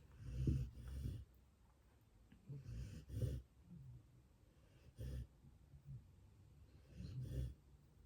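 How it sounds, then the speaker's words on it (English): A dog snoring loudly nearby, with repeated rough, snorting breaths in an irregular rhythm and quiet pauses between them. "That snoring is so distracting, isn't it?"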